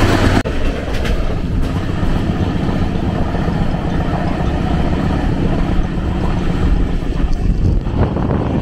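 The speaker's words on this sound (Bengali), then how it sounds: "ট্রেন সাঁতরাগাছি ঢুকছে।" A train rolls into Santragachi station, heard from on board as a loud, steady rumble and rattle of the carriages with some wind noise.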